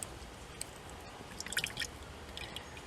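Brake fluid dripping from a 1962 Dodge onto the ground: faint, scattered wet drips and small splats over a quiet background, with a short cluster of drops in the middle.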